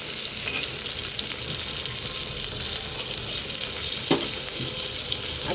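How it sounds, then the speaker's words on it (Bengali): Fresh shrimp and leafy greens frying in a pan, giving a steady, close sizzle with faint stirring scrapes throughout and a couple of brief clinks near the end. "তাজা তাজা চিংড়ি, তাজা তাজা সবজি দিয়ে রান্না করা হচ্ছে"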